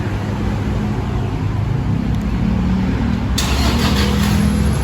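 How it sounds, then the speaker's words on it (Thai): A Toyota Vigo pickup truck engine, started by remote, turns over and settles into a steady idle beneath constant broadband rumble, with a brighter burst of noise joining near the end. "เครื่องยนต์ก็จะสตาร์ทติดนะครับ"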